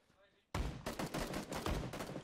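Rapid bursts of shotgun gunfire in the battle royale video game PUBG, several loud close blasts in quick succession right after a quiet moment.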